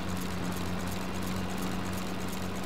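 A mower engine in the Farming Simulator 22 video game runs steadily while cutting grass into a pile, with a constant droning hum and a strong low tone throughout, loud and unbroken with no talk.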